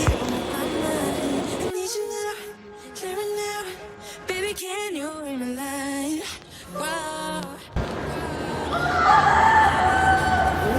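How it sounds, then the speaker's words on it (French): A rooster crows partway through, with a drawn-out, wavering call heard over busy ambient background noise near a cave site in Malaysia. "Ah, il y a un coq."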